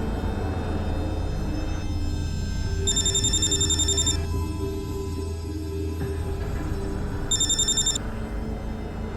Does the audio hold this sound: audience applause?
no